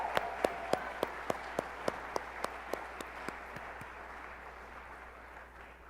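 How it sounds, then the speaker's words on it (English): An audience applauds award honorees at an excellence celebration, a soft, distant wash of clapping with one sharp, regular near clap beating about three times a second before it fades. "Let's give a final round of applause to all of our Incredible Service Award honorees."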